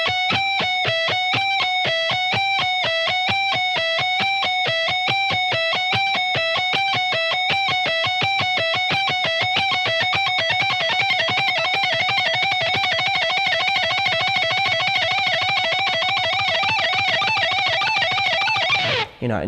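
A distorted electric guitar plays fast, even tremolo-style picking with accented downstrokes, a long continuous run of rapid notes whose pitch shifts in steps, loud and close with no talking.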